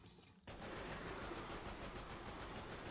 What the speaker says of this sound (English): Next we have the Thompson SMG.